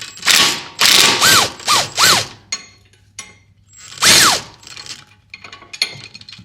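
Impact wrench rattling in short, loud hammering bursts as it loosens 18 mm control arm nuts on a 2018 Ford Explorer, several quick rattling bursts close together, then a pause and one more burst, with faint clinks after.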